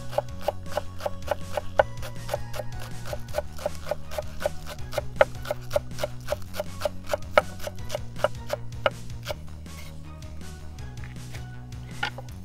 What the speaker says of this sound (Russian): А теперь нарежем зелень для посыпки.